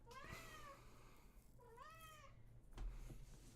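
A cat meows twice in long, rising-and-falling calls close by, with a faint low hum underneath and a short bump near the end; no talking.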